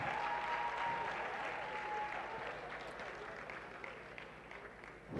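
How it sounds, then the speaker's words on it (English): An audience at a law alumni colloquium applauds a student with steady clapping that slowly fades. Faint voices sound under the clapping. "can we give her a round of applause?"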